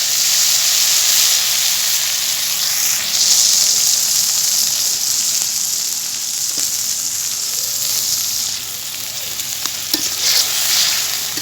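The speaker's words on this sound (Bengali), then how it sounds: "দিয়ে দিলাম সামান্য পরিমাণ পানি।" Spice paste frying in oil hisses and sizzles steadily after a little water is poured in, a loud, dense crackle with occasional stirring clicks, close up and without talk.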